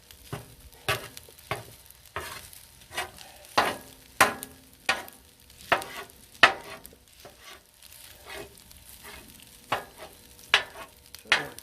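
Sharp metal scrapes and taps as paella ingredients are chopped on a hot sizzling griddle, repeated irregularly about once a second over a soft background fry.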